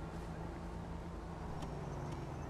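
Car from the GTA Online video game driving, a steady continuous engine drone with a low hum throughout, moderately loud and alone, with a couple of brief faint high clicks.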